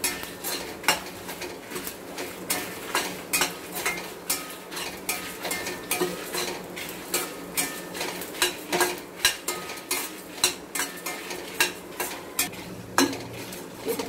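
Curry leaves and dried chillies fry in a pan while a spoon scrapes and taps it in a steady, repeated rhythm, with a soft sizzle underneath and no voices.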